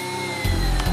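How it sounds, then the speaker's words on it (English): A powered driver turning a clamping screw into a wood joint, a steady motor whir close by with brief surges in load, one second long. "A clamping screw is then screwed into the hole."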